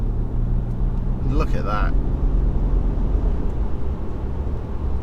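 A 2014 BMW 530d diesel with 132,000 miles pulls hard in fifth gear from about 2,000 RPM at 50 mph, a steady low engine drone and road rumble filling the whole stretch while someone speaks briefly over it.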